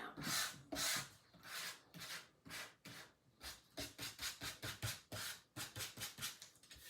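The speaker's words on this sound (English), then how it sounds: "I still have to sand my cardstock to smooth it out" Cardstock being sanded by hand for a sea horse card, a close series of rhythmic raspy rubbing strokes, quicker and shorter toward the end, with no talking.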